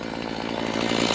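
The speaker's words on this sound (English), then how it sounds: "why is he sawing all those branches into little pieces?" A chainsaw runs steadily at high revs, loud and close, as it cuts branches into small pieces, with no voices.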